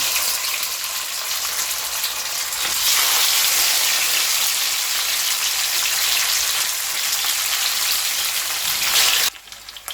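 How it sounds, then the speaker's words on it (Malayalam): Fish shallow-frying in hot coconut oil in a pan over a medium flame gives a dense, continuous crackling sizzle that swells midway and cuts off abruptly near the end, with no voices. "ഇത് നമുക്കൊരു മീഡിയം ഫ്ലെയിമിലിട്ട് ഒന്ന് ഫ്രൈ ചെയ്തെടുക്കാം"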